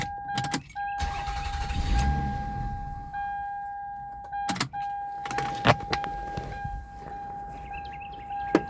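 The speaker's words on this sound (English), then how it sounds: "2002 Toyota Avalon. Cranks, but won't start." A 2002 Toyota Avalon with a dirty MAF sensor cranks repeatedly without catching, the starter whirring in several short bursts separated by pauses, a steady warning chime tone running underneath.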